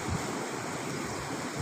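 Steady broadband rush of water flowing, continuous and fairly even, like water running through a channel at a sluice gate on the Kaveri, with no voices.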